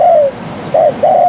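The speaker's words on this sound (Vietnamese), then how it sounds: "Con chim này nó dây gù lắm nha anh em." A spotted dove coos loudly and close: one long soft note, a pause, then two more rounded coos in quick succession, with no other voices.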